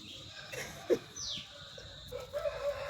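A rooster crows somewhere in the distance, a rising, drawn-out call followed by a shorter, higher crow. It sounds faint and mixed with low background noise, and no one speaks.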